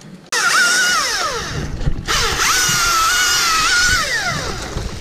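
Husqvarna T540i XP battery chainsaw pruning a lime tree, its electric motor whining loud and close in steady cuts with rising and falling pitch, a brief pause near two seconds, and no talk.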